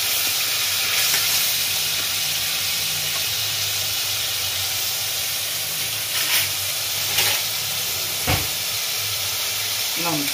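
Ginger paste hitting hot oil in a pan for a pointed gourd curry, a steady broadband sizzle and hiss that runs throughout, with a few brief louder crackles and clatters near the end.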